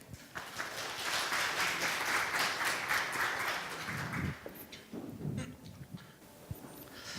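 Audience applause at a serverless tech conference talk in Seoul (AWS DevDay), a dense wash of clapping for about four seconds that fades into scattered claps and room noise as the next presenter comes up.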